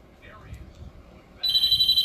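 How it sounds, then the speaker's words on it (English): A telephone ringing indoors during a makeup session, a steady electronic ring starting partway through and continuing loudly to the end, following a stretch of quiet background talk. "Sorry about that phone, guys. It never rings."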